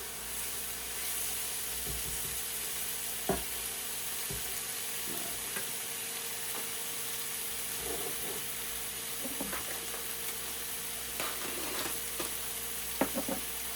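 About two pounds of 80-20 hamburger meat frying in a Hexclad pan, a quiet steady sizzle with occasional soft clicks and scrapes of stirring, no voices.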